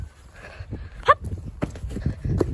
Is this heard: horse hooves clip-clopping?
yes